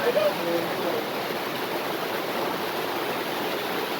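Sudden heavy rain pours down, a dense, steady hiss that stays even and close for the whole stretch, with no voices.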